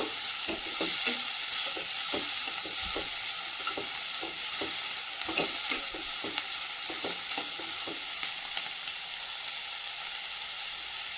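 Chopped onions sautéing in a frying pan, a steady close sizzle with repeated scraping stirs of a spoon throughout, no voices.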